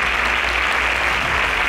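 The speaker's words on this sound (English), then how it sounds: "Please a round of applause for them." Dense, steady applause fills the hall for a pair of contestants at the InterswitchSPAK Nigeria 5.0 semi-final, an even wash of many hands clapping with no voices over it.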